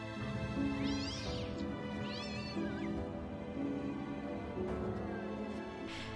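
Several cats meow in odd, drawn-out, wavering cries, two long rising-and-falling yowls early and more calls near the end, close and fairly loud over a steady low background hum.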